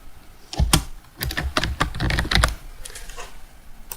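Notes are typed on a computer keyboard in ArtCAM software: close, loud bursts of keystrokes tapped in uneven runs for about two seconds, followed by a quiet stretch.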